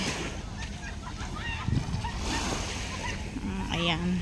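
Sea waves wash steadily along the shore at the seaside boulevard in Aplaya, Bauan, Batangas, a constant rushing surf under a person talking, with a few honking calls rising over it.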